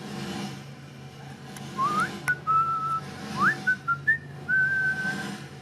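A person whistles a short, wandering tune of several sliding notes over a low steady hum in a quiet room.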